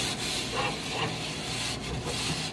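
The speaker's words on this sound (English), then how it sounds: "I'm going to actually try to scrub it, guys. Using the scrubber." A scrubber works Dollar Tree cleaning paste over a hard surface, making a close, continuous gritty rubbing with rhythmic back-and-forth strokes and no talking.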